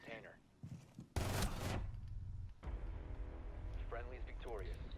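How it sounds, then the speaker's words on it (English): Gunfire in the shooter Rainbow Six Siege, a loud burst of shots lasting about a second and a half, followed by ongoing game noise with a voice talking over it. "He's gonna be shooting."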